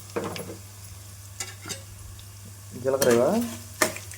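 Spices fry in a pan with a soft, continuous sizzle under occasional stirring scrapes. Someone speaks over it in short bursts.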